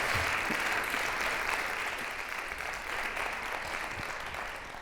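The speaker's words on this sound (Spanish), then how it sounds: "Otro aplauso, don Mario, por favor." Sustained audience applause for Mario Vargas Llosa at a literary event in Madrid, a dense, even wash of many hands clapping that slowly tapers off.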